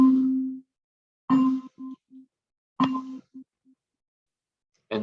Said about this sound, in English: And that's the dismissal bell.